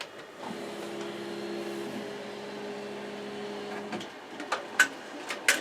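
An embroidery machine stitching out a floral design, a steady mechanical whir and hum for about four seconds, then a few sharp clicks and taps as it stops, recorded close.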